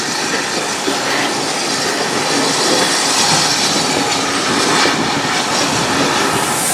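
American S160 steam locomotive at a spring steam gala on the Keighley & Worth Valley Railway, a steady loud rumbling roar of the engine and train running throughout, close by with no talk.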